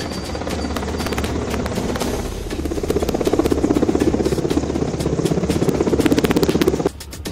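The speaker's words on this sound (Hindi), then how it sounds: "लखनऊ के आसमान में जब इंडियन एयरफोर्स के MI-17 हेलीकॉप्टर की गड़गड़ाहट सुनाई दी" An Indian Air Force MI-17 helicopter passes over Lucknow, its rotor beating in a loud, fast, continuous thump over a droning engine that grows heavier midway.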